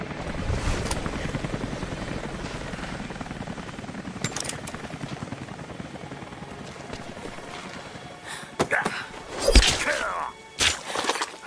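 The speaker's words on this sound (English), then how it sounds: "Mission crews are already packing up the choppers." Helicopter rotor chopping in the video game Rise of the Tomb Raider at a research base, a steady thumping drone under speech, with sharp thuds and bursts of noise near the end.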